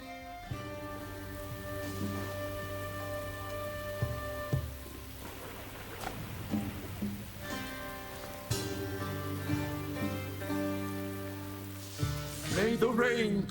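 Rainfall in the PC fantasy game Echoes of Mystralia, a soft steady patter lying beneath sustained musical tones while a voice talks over it.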